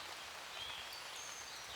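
Rain pattering in a woodland, a soft, steady hiss of drops with a faint, thin bird call now and then.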